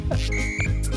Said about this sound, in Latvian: Svilpe, kāpēc svilpe?